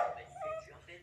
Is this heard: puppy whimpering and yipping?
yes